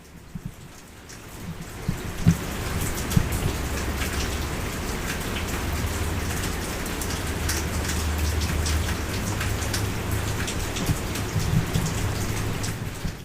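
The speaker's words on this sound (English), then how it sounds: "I just want you to hear how much the rain's died down." Steady moderate rain, dying down, patters on surfaces with occasional louder drops, a soft continuous hiss with no voices.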